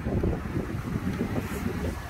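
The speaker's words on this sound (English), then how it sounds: "it's a lovely day apart from that it's windy." Gusty wind buffets the microphone in a constant, rough low roar, loud and close, with no one speaking.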